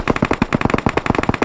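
Automatic gunfire in a video game: a loud, rapid burst of roughly twenty evenly spaced shots, close and uninterrupted, with no speech.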